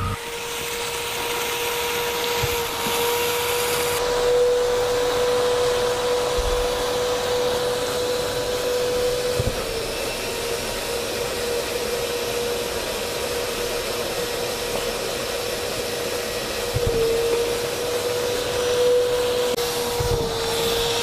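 An Oase Pondova garden pond vacuum runs continuously in a steady, loud drone with a fixed motor hum and hiss, with faint thumps of debris now and then and no talking.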